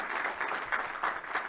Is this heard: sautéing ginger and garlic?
no